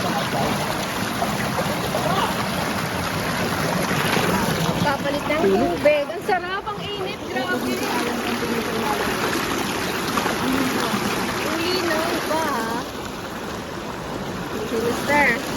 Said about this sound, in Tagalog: Nagpapalit ng tubig sa swimming pool.